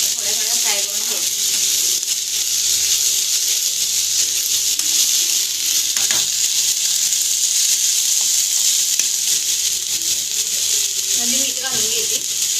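Masala Maggi frying in a pan gives a steady, close sizzle that hisses evenly for the whole stretch, with a few brief bits of quiet voice near the start and end.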